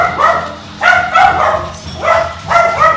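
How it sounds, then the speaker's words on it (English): A dog barks and yelps repeatedly in short bursts, close and fairly loud, with a whiny, yipping tone. "Chelsea dogs. Chelsea pups."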